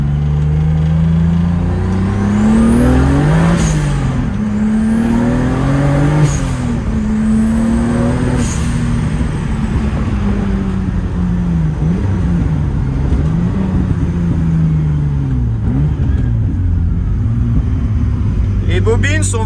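A BMW E36 turbo with an Audi R8 ignition system revs and pulls hard while driving, rising and falling engine tones repeating three times before settling into a steady loud drone with some turbo whine, close and continuous.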